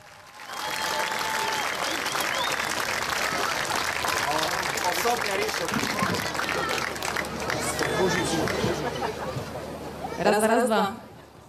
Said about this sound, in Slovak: Ďakujeme za potlesk.